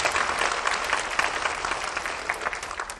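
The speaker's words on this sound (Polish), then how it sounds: "Brawa dla niej duże." An audience at a school writing-contest ceremony gives a student a round of applause: dense, close, lively clapping that continues without pause for the whole stretch.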